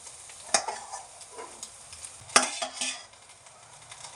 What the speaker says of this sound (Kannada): ಈಗ ನಾನು ಅನ್ನ ಹಾಕ್ಕೊತಿದ್ದೀನಿ.